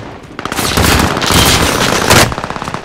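Rapid automatic gunfire in Call of Duty Warzone Rebirth Resurgence quads match, loud and close, dense bursts running almost the whole time with a brief heavier volley near the end.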